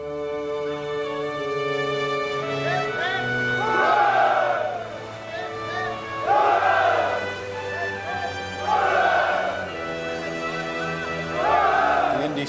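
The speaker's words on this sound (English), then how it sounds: "cheering us, sir." Men aboard ship raise repeated cheers, four rhythmic swelling shouts spaced a few seconds apart, heard over sustained orchestral music.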